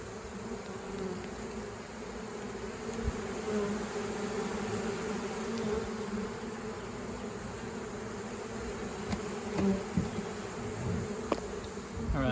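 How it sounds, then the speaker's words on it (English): A dense, steady drone of a bee swarm buzzing up close, continuous and loud throughout, with occasional louder passes and faint clicks, no voices. "That is a lot of bees."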